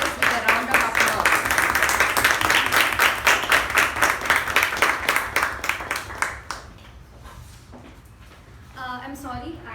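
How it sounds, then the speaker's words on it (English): Audience applause at a Toastmasters-style club meeting, a steady wash of clapping for about six seconds that fades away, followed by quieter room sound and a brief voice near the end. "Let us accept this with a round of applause."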